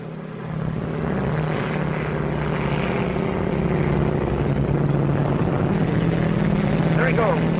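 A propeller airplane drones steadily overhead at about 15,000 feet, its engine loud and continuous throughout while voices talk beneath the noise.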